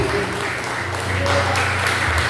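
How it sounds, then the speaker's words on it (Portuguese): Church congregation applauding during a sermon, with dense, steady clapping and crowd noise filling the space, and a voice speaking over it. "Se você pode, aplauda e bendiga o nome de Jesus."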